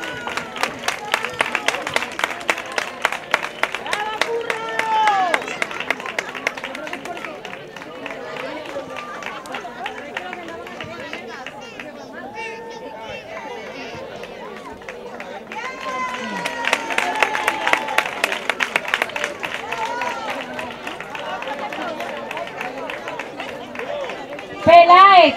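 An audience at an end-of-year school ceremony in Almonte claps rhythmically, rising in two louder bursts with a quieter stretch between. Voices and chatter mix in with the clapping.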